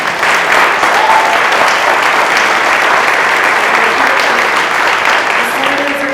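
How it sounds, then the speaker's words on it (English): Dense, sustained applause from a large audience at a press conference fills the clip at a steady loud level. "So let's give them a round of applause."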